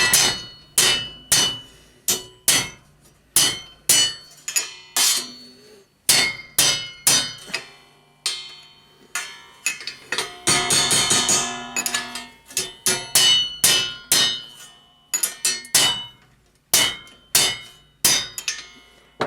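Sheet metal being tapped down with a hammer, sharp ringing metallic strikes in irregular bursts and a rapid flurry midway, loud and close with no talk.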